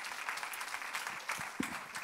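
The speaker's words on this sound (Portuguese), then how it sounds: "Vamos aplaudir mais uma vez o nome de Jesus." Applause from a church congregation, steady clapping that fills the space with no speech over it.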